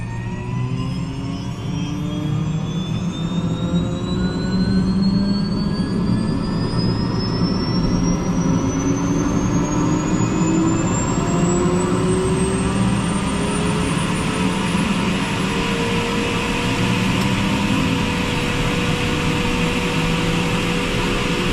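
A Eurocopter EC120 helicopter's turbine engine and rotor drone loudly and continuously at close range while a slow rising whine climbs steadily throughout, with no voices.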